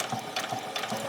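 A sewing machine runs slowly while stitching ruffles for a spring outfit, its needle making a quick, even mechanical patter, close and steady, with no voices.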